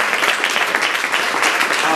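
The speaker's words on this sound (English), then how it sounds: "I think we should give her a round of applause" A crowd at a charity event applauds a singer, loud, dense clapping that holds steady throughout, with some voices mixed in beneath.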